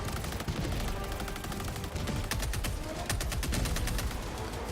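Automatic weapon fire in Helldivers 2, a steady stream of rapid shots with a regular rhythm among ongoing battle noise, fairly loud, with no talk over it.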